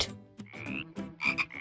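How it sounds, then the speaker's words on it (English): A frog croaks in a series of short, throaty bursts with a rough, buzzy tone, close and fairly quiet, with small gaps between calls. "That's a frog!"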